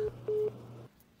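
Telephone dialing tones sound as a phone is called: short and longer electronic tone bursts over a steady low hum, fairly loud and close, then cutting off into near quiet, with no talk.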